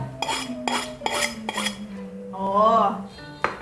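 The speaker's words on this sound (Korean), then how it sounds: "커팅 해볼까?" A knife cuts kimbap on a cutting board at close range, making four sharp rhythmic knocks followed by a drawn-out scraping squeak and a final tap.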